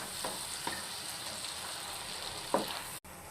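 Masala for an okra curry fries in a pan with a constant soft sizzle, while a spoon stirs and scrapes against the metal in a few distinct strokes, heard up close with no speech.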